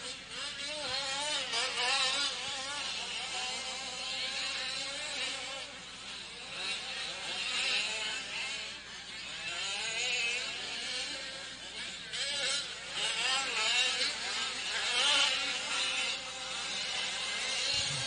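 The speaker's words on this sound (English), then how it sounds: "Lean bogging a little bit at the top of the hill, it sounds like" Small nitro-engined RC cars race around a competition track, high-pitched buzzing engines rising and falling as they pass, bogging at times, mixed with a commentator's voice.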